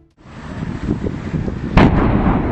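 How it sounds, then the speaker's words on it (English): A gas filling station explodes beside a busy highway, a sudden heavy boom breaking through a steady roar of traffic and rumble, then a sustained loud, broad blast that carries on to the end. "an immense explosion rocked a gas filling station"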